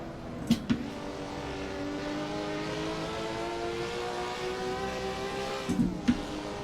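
A race car engine in Assetto Corsa at Suzuka drones steadily through a long pull, bracketed by quick gear shifts with brief sharp blips near the start and end.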